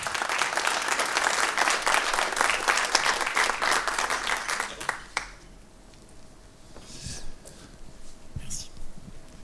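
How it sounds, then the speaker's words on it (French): Audience applause greets a speaker invited on stage at a business and innovation conference, a dense steady roar of clapping that fades out midway, leaving a quiet room with faint murmurs and stray sounds. "On peut l'applaudir."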